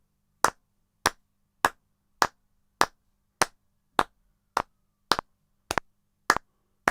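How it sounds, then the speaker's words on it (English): A group claps a steady pulse in a singing lesson: eleven crisp, evenly spaced claps, clear and close, with no talking between them. "One more bar of clapping, and then we'll vocalize."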